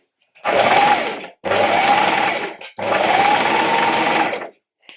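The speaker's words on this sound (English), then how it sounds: "And then rather than reversing at the end, I'm just going to sew straight off" A sewing machine stitching a jumpsuit seam in three close, loud bursts of rapid whirring, separated by short pauses.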